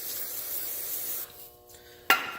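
A can of brake cleaner hisses in a close, loud aerosol burst for just over a second during work inside the timing gear case of an M35A2 truck with a 6BT Cummins swap, followed by a short quieter gap and one sharp spritz.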